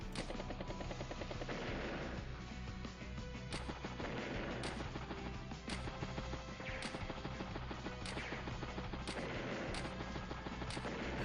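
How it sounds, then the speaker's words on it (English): A battleship fires on an enemy unit in the Advance Wars by Web strategy game: a sustained stretch of loud, crackling gunfire and explosive bursts with regular sharp accents, over busy game sound. "Battleship takes out that 1 unit there."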